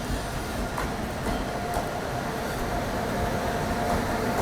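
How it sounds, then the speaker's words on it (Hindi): A Jaipur Mysore Express hauled by a WFP7 locomotive passes an Indian express train, heard as a dense, steady rail rumble with faint rhythmic clatter throughout and no speech. "सामने से एक ट्रेन आ रही है, मैं बताता हूँ आपको कौन सी ट्रेन है। WFP7 लोकोमोटिव के साथ"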